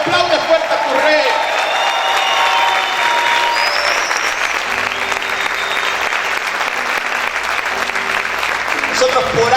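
A church congregation at a Spanish-language worship service breaks into loud, sustained applause and cheering that fills the room, with shouts and whoops rising over dense clapping and a speaker's voice carrying through.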